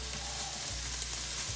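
Ham and garlic fry in a pan before cream goes in, a quiet, even sizzle crackling under a low background hum, brief and without talk.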